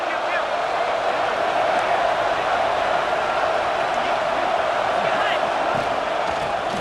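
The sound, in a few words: stadium crowd cheering at Michigan vs Oregon football game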